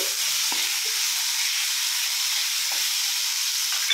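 Chopped tomato frying in a pan, a steady close sizzle with light stirring scrapes now and then, no talking.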